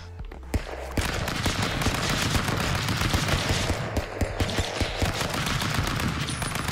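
Rapid gunfire in Stick Fight: The Game, a dense stream of sharp shots cracking in quick bursts almost without pause after a brief quiet opening, loud and close.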